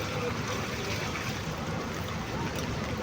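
Floodwater rushing along EDSA in Quezon City, a steady broadband wash of flowing water like a river, continuous and fairly loud throughout with no clear voices.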